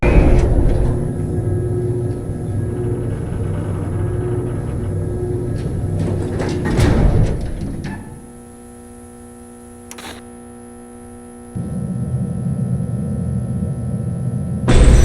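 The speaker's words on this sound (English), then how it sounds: "Listen to this sound the elevator makes when moving to the next floor." An elevator in the Dandy's World video game moves to the next floor with a steady mechanical drone and low rumble. It drops to a quieter hum partway through, then the louder rumble resumes.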